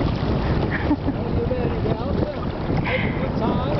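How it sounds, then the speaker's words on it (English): An Easy Rider sailing kayak under tow, lying broadside to wind-driven waves, with steady wind rush on the microphone, water sloshing against the hull and an occasional breaking wave, while people talk over it. "We're broadside to the waves, and every once in a while one breaks on us."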